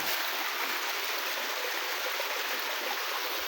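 Water in a hill stream near Himchhari waterfall rushes and splashes in a steady, close, unbroken wash of sound, with no voices over it.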